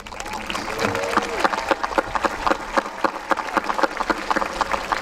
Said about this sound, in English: I'd like all the scholarship recipients to now stand for a round of applause